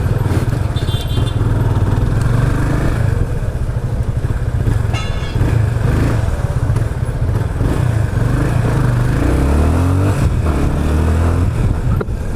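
A Yamaha Fazer 25 motorcycle engine runs loudly and steadily during a test ride, with a continuous close drone and some wind and road rumble.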